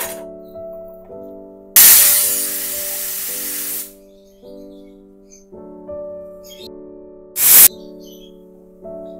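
A pressure cooker whistles loudly as steam bursts out, one long hissing blast and a shorter one later, with steady tonal hum from the cooker between.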